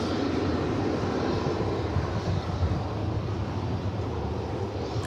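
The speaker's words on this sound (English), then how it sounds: "Another Airbus A321." A Spirit Airlines Airbus A321 jet at DFW Airport roars steadily and loudly close by, its broadband engine rumble holding level for the full stretch without voices.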